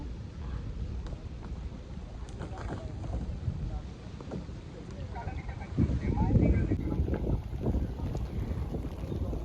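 Kayak paddling on shallow water, with steady splashing and low wind rumble close to the microphone and a louder surge of water partway through; people talk at times over it.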